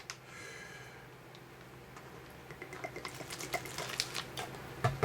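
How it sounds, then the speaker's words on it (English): Water poured from a canteen into a flameless ration heater from a military ration kit, starting as a faint trickle and building into a series of splashing, gurgling drips that grow louder toward the end. "Then we'll take our canteen and fill the FRH up to the fill line."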